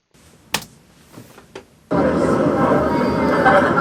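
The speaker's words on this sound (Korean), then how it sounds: "시끄러운 지하철 환경을 한번 만들어봤습니다" Loud subway train ambience, a dense steady rumble and roar, cuts in abruptly after a few soft clicks and taps, staged to test Defunc True Mute noise-cancelling earbuds.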